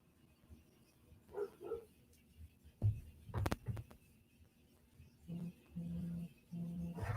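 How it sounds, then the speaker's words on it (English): Dogs bark a few times in the distance, scattered short barks with quiet gaps between them. "I bet I know exactly why they're barking."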